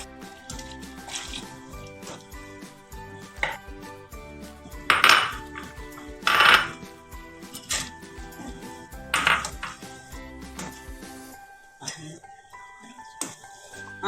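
A pot of kadala pradhaman, a payasam with coconut milk, cashews, raisins and coconut pieces, is lifted off the stove, giving several sharp metallic clanks and clatters, close and fairly quiet, with soft kitchen noise between them.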